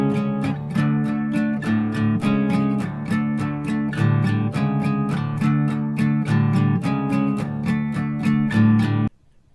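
Guitar playing a rhythm part, a steady stream of evenly spaced strummed chords with ringing open strings, close and loud, ending abruptly.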